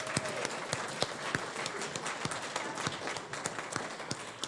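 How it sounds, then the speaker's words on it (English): An audience at a school graduation ceremony claps in a lively, sustained round of applause, many hands producing dense crackling with some sharper individual claps standing out near the microphone. "Let's give them another round of applause."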